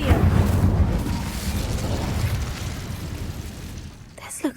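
In Hogwarts Legacy, a cast Incendio fire spell erupts in a loud, roaring whoosh of flame that fills the scene and fades over a few seconds, ending with a faint crackle.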